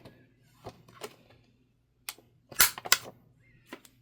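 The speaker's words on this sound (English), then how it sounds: "let's see how well this punches corners" A few sharp mechanical snaps and clicks of a corner punch cutting paper, close and crisp, with a quiet pause before a cluster of louder pops.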